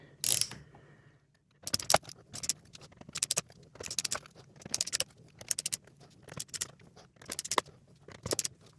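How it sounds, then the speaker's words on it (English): Tiny screws being removed from the key contacts of a Kawai ES7 digital piano keyboard during a repair: a quiet start, then a steady run of short, crisp metallic clicks and scrapes in rapid bursts, close up with no talking. "So now I'm just going to remove these screws."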